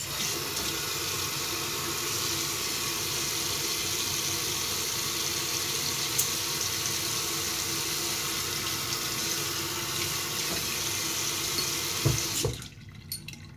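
A Gillette Platinum Plus razor blade is rinsed under a running tap, with a constant, fairly loud stream of water into a sink that stops abruptly near the end, leaving quiet room tone.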